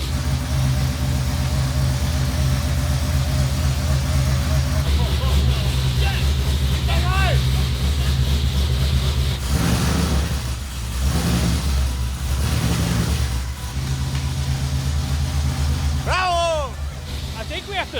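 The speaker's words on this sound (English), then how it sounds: "to hear that sound coming out of a Toyota Supra" A Hellephant V8 engine swapped into a Toyota Supra runs loudly and steadily in a shop, with a deep continuous rumble throughout, while people talk over it.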